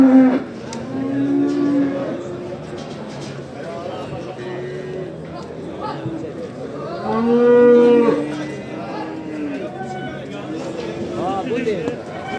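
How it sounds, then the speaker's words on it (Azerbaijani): Calves at the Ganja livestock market moo repeatedly, loud and close, with several drawn-out calls rising over a busy crowd of voices and market noise. "Deməli bax belə buzoylarımız da var"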